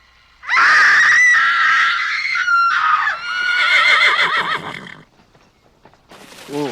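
A person's voice imitates a horse whinny, a loud, high, wavering neigh that rises and trembles for several seconds, followed by a short falling squeal.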